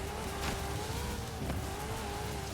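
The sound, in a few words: racing car engine in Forza video game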